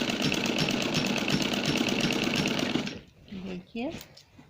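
A sewing machine runs a rapid, steady stitch along a gown and is loud and close for about three seconds. It then stops, and a voice speaks briefly over quiet.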